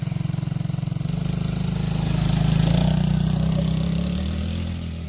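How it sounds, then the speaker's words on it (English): A Chinese ATV engine runs at about half throttle, a loud, buzzy pulsing drone close by that rises gently in pitch and intensity mid-way, then eases slightly. "Oh yeah, that's about half throttle."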